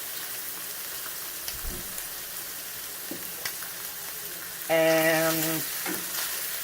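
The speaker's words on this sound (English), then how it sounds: "Stir in butter and half the garlic." Shrimp cook in butter and garlic with a steady sizzle as a spoon stirs and taps the pan now and then. Near the end a short tonal squeak or whine rises briefly above the frying.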